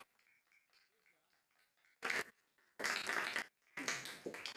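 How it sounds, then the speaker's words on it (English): Audience clapping at a regular Board of Education meeting comes in three short, fairly loud bursts of applause after a quieter stretch of faint voices and room noise. "Can we clap for her now?"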